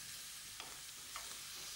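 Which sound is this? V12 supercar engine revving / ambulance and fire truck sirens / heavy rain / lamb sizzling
lamb sizzling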